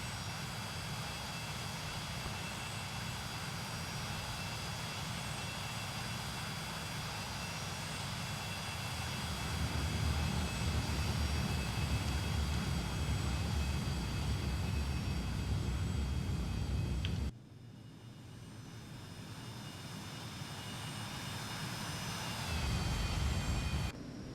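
A Cessna Citation Mustang jet in a flight simulator roars steadily during climb-out, a loud broad engine rush with high whining tones, rising in intensity, then briefly dropping and building again.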